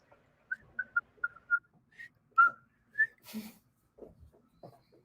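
People whistle with pursed lips in imitation of the wind during a virtual play reading, giving a series of short, soft whistled notes, some rising, followed by a breathy hiss and faint murmurs.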